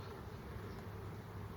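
Bees hum as a steady, close buzz that holds without a break over a brief stretch, with no voices.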